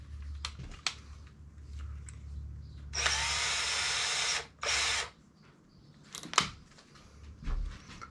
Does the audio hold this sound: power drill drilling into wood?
yes